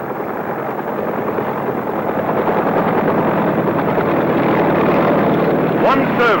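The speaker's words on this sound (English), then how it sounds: "Helicopters must get in quickly and get out again before that hour is up" Helicopters fly over a nuclear test site, giving a loud, continuous broadband roar with a steady rotor drone that grows slightly toward the end, under a narrating voice.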